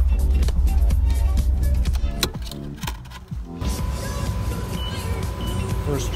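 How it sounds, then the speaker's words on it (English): A Mercedes W124 drives along with a rough, harsh gear shift, its low engine drone broken by clunks and rattling ticks partway through before settling into steadier road noise. "First drive of the Mercedes here"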